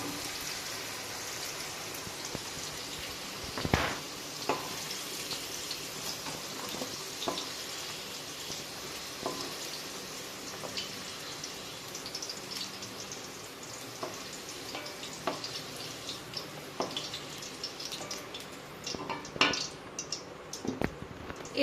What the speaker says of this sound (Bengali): এই একই তেলের মধ্যে এবার আমি বরবটিটাকে দিয়ে একটু হালকা করে বরবটিটাও ভেজে নেব।